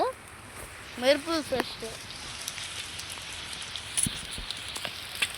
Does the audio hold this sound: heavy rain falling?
yes